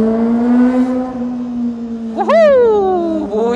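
Kawasaki ZX25R motorcycle engine held at a loud steady drone, then revving sharply up and settling back, with another quick blip near the end, close and prominent.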